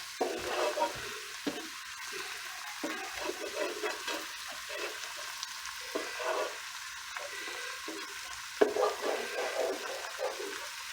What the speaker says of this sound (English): I'm going to add the zucchini noodles in here now and let them soak up all that flavor.